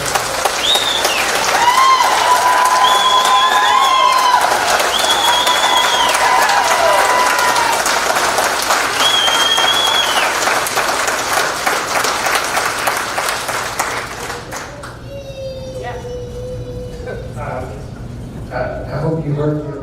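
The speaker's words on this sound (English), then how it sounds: "I hope you heard the applause." Loud, sustained audience applause fills a county planning and zoning meeting on a data center, with voices mixed in, before fading to quieter room sound near the end.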